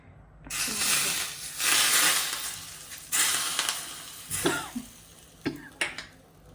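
Heated oil is poured over smoky roasted eggplant bharit and sizzles in several bursts. Each burst is a loud close hiss that fades, followed by a few softer crackles, with no talking.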